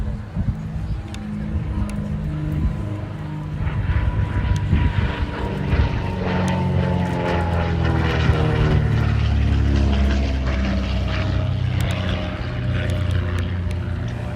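Grosvenor House, a vintage propeller aircraft restored by the Shuttleworth Collection, flies overhead at the Duxford D-Day anniversary airshow, its steady engine drone rising and shifting in pitch as it passes, with faint crowd voices beneath.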